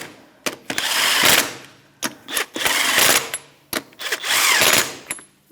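A power tool snugs the wheel lug nuts on a 2013–2018 Toyota RAV4 2.5L, buzzing in three roughly one-second bursts with brief mechanical clicks between them.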